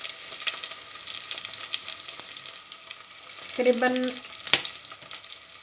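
Aloo chana curry frying in oil, a steady broadband sizzle throughout with a few scraping stirs, a brief utensil clink near the end, and a short spoken word partway through.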